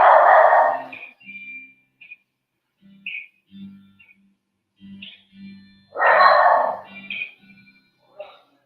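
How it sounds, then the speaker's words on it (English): A dog barks indoors in a few sharp, loud bursts with quiet gaps between them. Soft voices and other small sounds are scattered through the pauses. "Can y'all hear my dog?"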